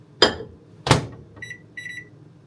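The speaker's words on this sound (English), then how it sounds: "Microwave." Two short clunks, like a door closing, are followed by a pair of clear electronic beeps from a microwave oven.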